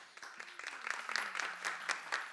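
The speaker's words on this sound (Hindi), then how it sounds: "हम चाहेंगे कि इन सभी आर्टिस्ट के लिए जोरदार तालियां हो जाए" An audience at a Durgotsav 2023 event gives a brief, faint round of scattered clapping for the performing artists, uneven claps spread over a couple of seconds.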